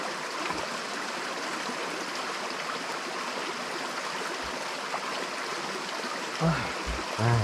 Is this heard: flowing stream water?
yes